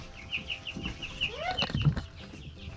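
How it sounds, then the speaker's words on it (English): Hens and small chicks cluck and peep on a farm, in a busy run of close, repeated calls with a few rising chirps and one louder squawk. "look at the little chicks. Look at them all."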